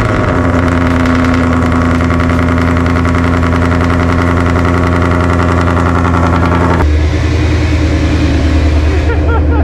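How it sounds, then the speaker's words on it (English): A Ford Mustang with the 2.3 EcoBoost turbo four-cylinder starts cold and idles loudly with a steady, close engine drone, shifting to a rougher, lower note partway through. "Let me record some cold start then, you know."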